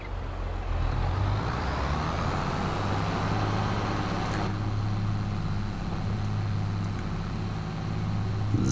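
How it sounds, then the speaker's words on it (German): Road traffic rumbles in a farming simulation game, a steady low vehicle engine drone with a faint passing whoosh partway through, continuous and moderately near. "Verkehr."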